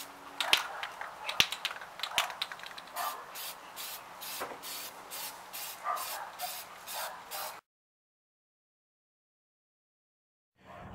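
White spray paint goes onto a 54 tooth sprocket in quick, repeated hissing bursts from an aerosol can, close and fairly loud with a few clicks between, then silence.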